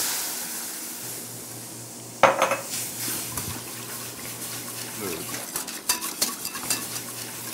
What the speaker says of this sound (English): And just mix it up quickly so we get a nice smooth consistency.